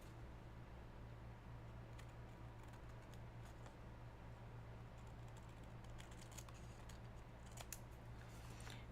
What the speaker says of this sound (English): All right, scissors.